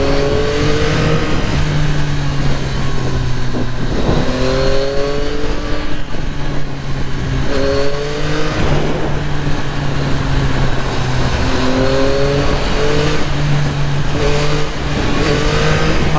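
Yamaha MT-09 motorcycle engine revving up through the gears, rising pitch sweeps repeated about six times with brief drops at each quickshifter shift, loud and close with no talk.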